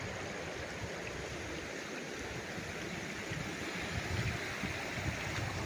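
A river running along the boundary of a farm lot in Cavinti, Laguna rushes steadily, a continuous broadband wash of flowing water with no voices.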